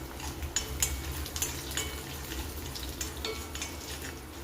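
Steady crackling sizzle of tempering spices frying in hot oil for horse gram dal, with a few sharp pops and faint clinks of a utensil against the pan.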